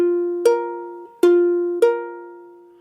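Two fretted ukulele strings plucked one at a time, three clear bright notes in total, each ringing out and slowly decaying, alone with no talk.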